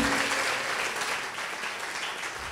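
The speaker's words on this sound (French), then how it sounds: "On peut les applaudir très très fort." Loud, dense applause from an audience at a school science café event in Rémire-Montjoly, a steady wash of many hands clapping close by that fades slightly toward the end.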